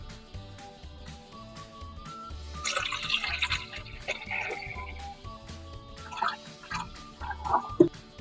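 Water poured into the tank of a Deerma PH-DEM-F628S humidifier, a gurgling, trickling fill with drips and splashes that builds midway, over a low background hum and music.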